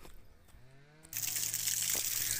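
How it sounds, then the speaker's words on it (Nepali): Water from a local village tap or spring by a hillside road in Surkhet, Nepal, gushes in suddenly after a quiet moment, then pours steadily and fairly close. "गाउँमा धारो छ हेर्नुहोस्, पानीको मूल छ यसरी।"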